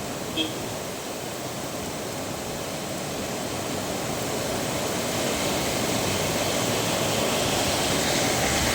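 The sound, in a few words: sudden heavy rain pouring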